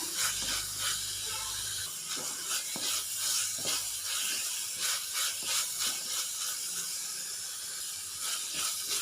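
Shallots being sautéed in a pan for fish curry give a steady hissing sizzle, with repeated scraping and stirring strokes close by, and no voices over them.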